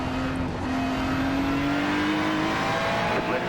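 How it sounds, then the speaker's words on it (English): A pack of faster race cars closes in during an iRacing multi-class race at Indianapolis Motor Speedway, engines droning loudly and continuously, their pitch rising slowly as they draw nearer. "A group of faster cars approaching."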